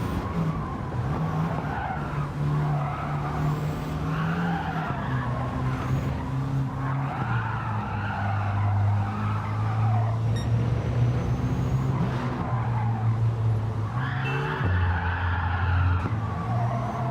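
Race cars in Gran Turismo 7 slide through corners with dabs of handbrake, tires screeching in long squeals over droning engines that shift pitch, loud and continuous throughout, with no talking.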